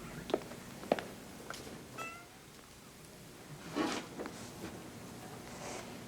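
Three cats of different breeds, exotic shorthair among them, meow at a cat show competition: a few short, scattered meows, moderately faint, rising above a low murmur of hall background noise.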